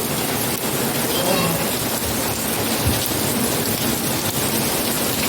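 Heavy rain pours at night in a dense, steady roar on surfaces, with a low thunder rumble near the middle and people talking faintly beneath it.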